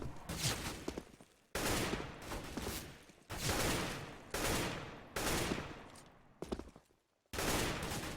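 Rapid automatic rifle bursts from an M4 in CS:GO, several loud sustained volleys separated by short silent gaps, close and dominant with no talking.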